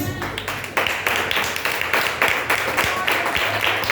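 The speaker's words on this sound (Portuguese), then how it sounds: "Aplauda o Senhor Jesus." A church congregation claps along, rhythmic rounds of hands beating together in a loose steady pulse over faint background sound.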